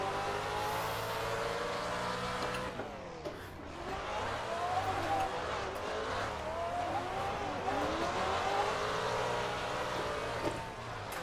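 Drift cars race in a virtual drift video game, with a loud, continuous engine roar and rising and falling revs that sound like tire squeal as the cars slide.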